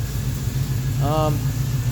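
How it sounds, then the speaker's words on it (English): A car engine runs steadily at idle, a constant low hum throughout, with a short tonal whine rising briefly partway through. "Engine seems to run great."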